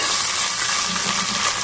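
Tomatoes being stirred into frying onions for a Tamil fish curry, heard as a loud, dense sizzle with continuous hissing and faint scraping from the stirring, with no voices.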